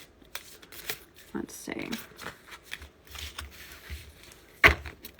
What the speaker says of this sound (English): I'm just shuffling a little bit here.